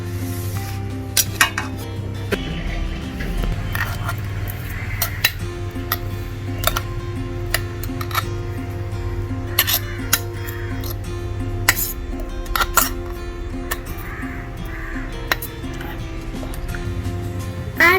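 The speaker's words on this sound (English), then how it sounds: "Now mix it with the tapioca and add some salt" Crushed coconut and fennel seeds being mixed with tapioca and salt in a metal bowl, heard as steady clinks and scrapes of utensils against the dish, near and busy, with a low hum underneath.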